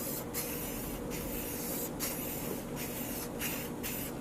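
Spray gun laying a second coat of primer on a Ford Edge rebuild: a steady close hiss broken by short pauses roughly every second as each pass ends and the next begins.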